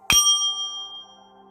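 A single bell is struck once during a Reiki session, a bright metallic ding with a sharp attack and a clear ringing tone that fades over about a second.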